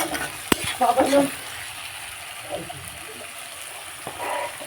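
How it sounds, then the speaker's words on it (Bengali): Garlic frying in mustard oil in a pan for mutton curry, a soft continuous sizzle with a few brief stirring clatters early on, fairly faint and close. "রসুনটা ভাজছি, পেঁয়াজ কড়া করে ভেজে নিয়েছি।"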